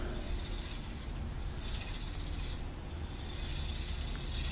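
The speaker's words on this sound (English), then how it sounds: "the lathe speed's running about 400" Wood lathe spinning a charcoal Spectraply bowl blank at low speed, a steady close mechanical hum with a continuous faint rubbing hiss and no voices.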